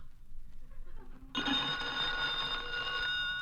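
Telephone bell ringing on a 1949 radio comedy show: after a quiet moment, a loud, sustained bell ring starts abruptly and continues steadily to the end, close and clear with no talk over it.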